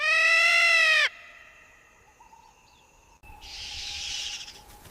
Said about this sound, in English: another alarm call rings out